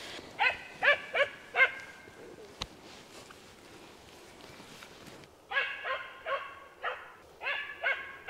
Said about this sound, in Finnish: Nyt se haukkuu jotenkin.